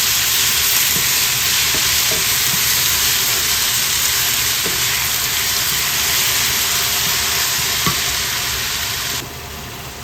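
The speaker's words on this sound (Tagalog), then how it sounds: "Ika-caramelize ko po kasama po ang bawang sibuyas at sili." Sugar caramelizes over medium-high heat in a pan with garlic, onion and chili, giving a loud, continuous sizzle broken by occasional light clicks of stirring, with no talking.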